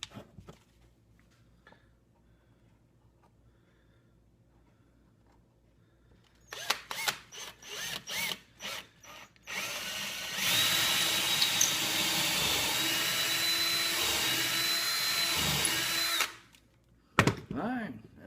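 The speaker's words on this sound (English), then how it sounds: "I'm going to drill just a modest size hole here" A power drill runs in short bursts, then bores continuously into wood for several seconds with a loud whine before stopping, followed by a brief extra burst.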